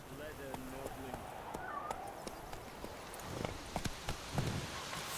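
Hooves of a horse ridden in The Witcher 3 clop along in an irregular rhythm, moderately close, with a faint ambient bed and scattered footstep-like thuds.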